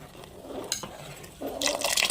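Rice flour batter is stirred into boiling water in a pot for rice kurdai: soft scraping strokes, then a louder, wetter burst of stirring and splashing near the end.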